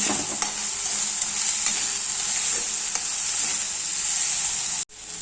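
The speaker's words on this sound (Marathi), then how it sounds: "कांदा पाक आणि छान परतून घ्यायचं आहे" Chopped onion sautéing in hot oil in a pan for a spring onion greens stir-fry, a loud continuous bright sizzle with faint stirring ticks that cuts off abruptly just before the end.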